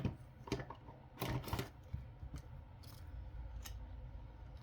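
Scissors cutting through a 24 by 36 rug, a few close crunchy snips in quick clusters followed by quieter scattered clicks over a low background hum, no talking.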